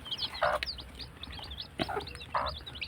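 A flock of young day-old chicks being raised without a heat lamp clucks and cheeps while eating and drinking: quick, high, repeated calls in overlapping bursts, close by and moderately loud, with no talking.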